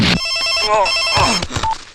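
A telephone rings with a bright, repeated electronic tone, heard close, with brief movement sounds between rings.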